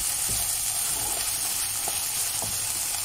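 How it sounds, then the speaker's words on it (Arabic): Onion and minced meat sauté together in a pan with a steady, dense sizzle, broken by a few soft stirring taps close by, without any speech. "بشوحهم البصل واللحمه"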